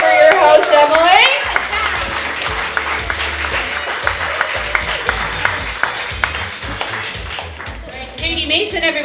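A comedy club audience claps steadily after a comedian's stand-up set, a dense wash of hand claps that carries through, with a voice talking over the start.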